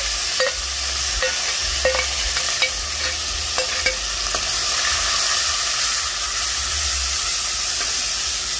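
Garlic, hot pepper, green seasoning and a little onion fry in a pot over a wood-fired chulha, making a steady loud sizzle and hiss with a few light scraping clinks of stirring, and no one talking.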